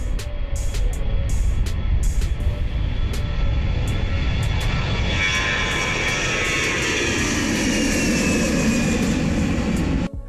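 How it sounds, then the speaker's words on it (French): An Air Côte d'Ivoire passenger jet airliner takes off, its engines roaring loudly and steadily, and the roar swells and shifts in pitch as the aircraft accelerates away. "C'est pratiquement à 15h25 que l'appareil a décollé."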